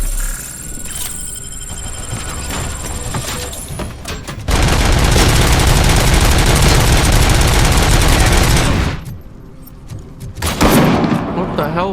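Gunfire in the Robocop Rogue City shooter game: loud, dense sustained volleys with a brief lull and a renewed burst at the end, close and heavy.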